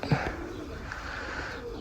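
Pigeons in a loft coo softly in a short burst, close by, with a faint voice and rustle around them.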